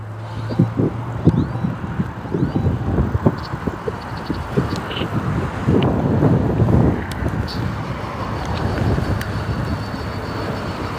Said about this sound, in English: It's too fucking windy.